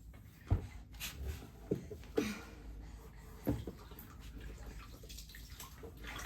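Warm bath water sloshing and splashing as a baby is bathed, soft intermittent splashes and drips over a quiet watery background, close by.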